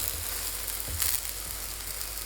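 Chinese cabbage-filled pie sizzling in an oiled pan after being flipped, a steady close frying hiss with a brief louder crackle midway, no voices.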